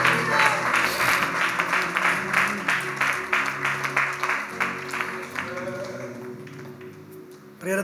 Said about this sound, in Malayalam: കൂടെ ഒന്ന് കൈയടിച്ച് ദൈവത്തിന് സ്തോത്രം ചെയ്ത്